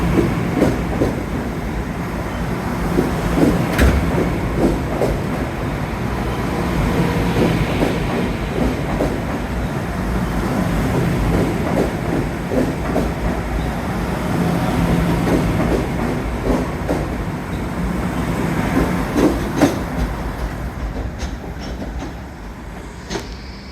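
A New York City subway train rolls along the rails with a continuous rumble and periodic clickety-clack, some faint squeals over the steady roar.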